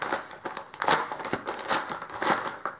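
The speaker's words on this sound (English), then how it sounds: "I'm going to rip this open." Plastic package of Shelly flood sensors being ripped open by hand, a close run of crinkling and tearing with sharp crackles, fairly quiet and without speech.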